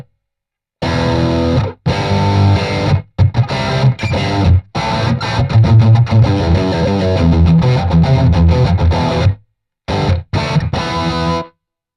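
An electric guitar through a BluGuitar AMP1 100-watt amp on its metal setting plays heavily distorted, aggressive chords and riffs in loud bursts, with a few abrupt silent gaps between phrases.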